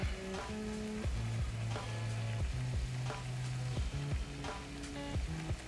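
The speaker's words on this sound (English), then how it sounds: "let that simmer down" Sauce for chicken francaise simmers and sizzles in a pan with a steady, close frying hiss that runs throughout, and a melodic background tune plays over it.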